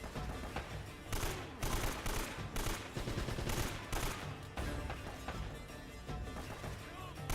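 Rapid, sustained bursts from a machine gun turret in an Uncharted video game, a dense near rattle of gunfire in repeated volleys with brief gaps, under low game ambience.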